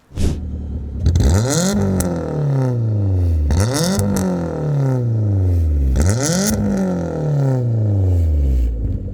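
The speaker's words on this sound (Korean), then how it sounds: "배기음도 듣고 오시죠" A loud aftermarket car exhaust on a 2008 Kia New Morning revs hard three times, each blip rising sharply then falling away, with a crackling, rumbling tone throughout.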